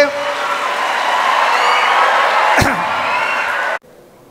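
An audience at a celebration event applauding in a steady, dense wash of clapping that holds for nearly four seconds, with one sharp knock partway through, before cutting off abruptly.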